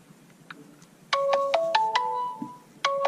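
Phone ringtone of an incoming call, a bright electronic melody of repeated tonal notes starting loud after a second of quiet, breaking off briefly and returning at the end.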